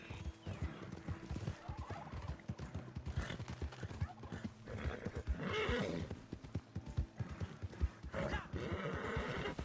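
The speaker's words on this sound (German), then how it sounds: "das Pferd wieder" Horse in the Red Dead Redemption 2 video game, with steady clip-clopping hooves close by and repeated neighs and whinnies over the rhythm, alone without talk.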